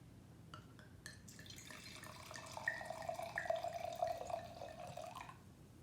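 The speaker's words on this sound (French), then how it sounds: "Lors d'une dégustation, il est préférable de remplir le verre de 1/3." Rosso Gran Passione 2019 red wine pours steadily into a tasting glass for several seconds, a faint, close trickle and gurgle with no talking.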